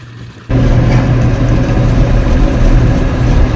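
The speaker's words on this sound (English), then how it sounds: "Running in the tractor." A tractor pulling a verti-drainer starts up loud and close after a brief quieter moment, then holds a heavy, steady low rumble with a constant engine drone throughout.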